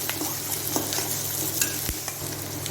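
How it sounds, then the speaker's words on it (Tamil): Green chilies and curry leaves sautéed in a pan for kuzhambu, a close steady sizzle broken by light stirring scrapes and clicks, with no one speaking. "பச்சை மிளகாயும் போட்டு சேர்த்து எல்லாத்தையும் நல்லா ஒரு வணக்கிக்கலாங்க"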